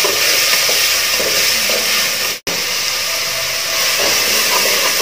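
Curry leaves and green chillies sauté in hot oil in a pan for beef biryani. A loud, steady hiss and sizzle fills the scene, broken by one brief dropout midway.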